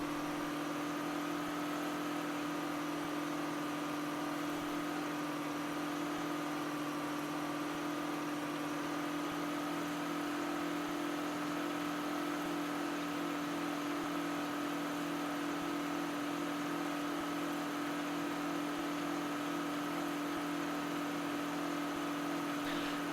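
A simulated 9560 tractor engine idles in Farming Simulator 2013, holding a steady, low droning hum with constant tonal layers for over twenty seconds, with no change in pitch and no talking.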